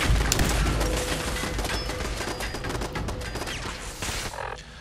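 Rapid laser turret fire in the Fallout 4 video game, a dense run of crackling shots and impacts carrying steadily for nearly five seconds, loud and close, with no talk over it.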